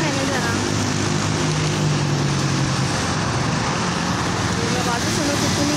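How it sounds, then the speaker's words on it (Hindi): Dense road traffic along Lawrence Road by Jinnah Garden in Lahore, a constant loud roar of passing cars and motor vehicles with engine drone, heard under a man's speech. "इस तरह कितनी रवानी से जो है ना ट्रैफिक चलती है, आई जा रही है"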